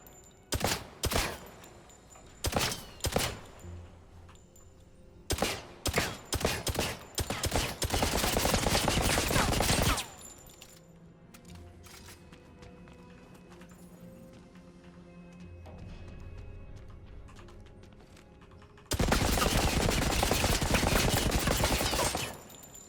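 Gunfire in the video game 007 First Light, with bullets ricocheting off a target: sharp, loud bursts of rapid shots in clusters, then a long sustained volley, quieter rumbling stretches between, no talk.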